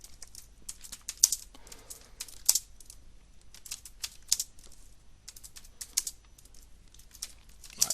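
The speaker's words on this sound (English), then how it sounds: "this is how you actually get used to typing these things" Close, crisp keyboard typing while coding an HTML and CSS product landing page: irregular bursts of light clicks and keystrokes separated by brief pauses, with no talking.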